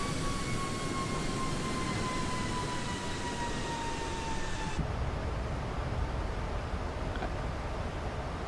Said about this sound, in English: the airplane's trying to climb to get to its path.